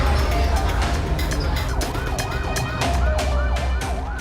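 An ambulance siren wails with a repeated rising and falling sweep over steady road traffic noise, loud and fairly close.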